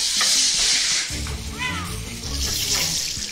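Pork neck meat frying in a pan sizzles loud and close, with clinks and a brief bright squeak of cookware over the steady hiss.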